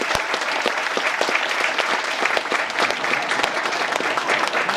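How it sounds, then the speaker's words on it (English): Sustained audience applause at a panel event, dense steady clapping from a large room, loud and continuous with no voices over it. "Let's have a round of applause."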